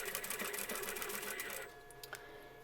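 Sewing machine stitching across the zipper tab of a quilted, zippered spiral pouch, a quick even run of needle strokes that stops partway through, leaving a faint hum with no talk.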